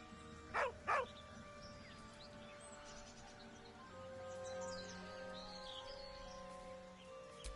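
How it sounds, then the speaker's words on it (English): A dog whining beside a corpse in Baldur's Gate 3, two quick loud whimpering yelps early, then a quieter stretch of faint ambient tones and chirps. "With a deep, heartbroken whine, the dog bows his head."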